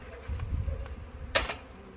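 Low, close droning of honeybees buzzing in an opened hive in spring, with a brief sharp knock and rustle partway through.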